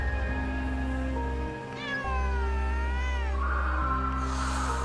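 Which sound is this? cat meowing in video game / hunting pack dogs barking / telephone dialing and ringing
cat meowing in video game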